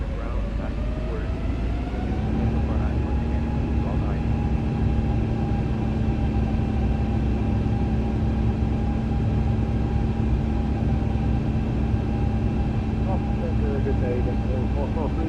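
An iniBuilds Airbus A350-900 airliner cruises at level-off in Microsoft Flight Simulator 2020, giving a steady, continuous engine drone with a constant hum under talk.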